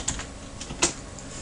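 Brief light tapping on a computer keyboard, a few quick soft keystrokes close by with no voices.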